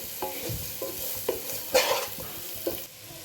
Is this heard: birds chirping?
no